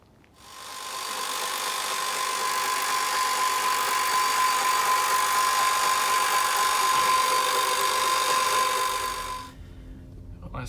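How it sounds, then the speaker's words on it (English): An electric winch pulling an E10 O2 car onto a trailer, a steady whining motor hum that starts abruptly, holds evenly for about nine seconds at close range, then cuts off. "get my winch out, and we'll get the O2 loaded up"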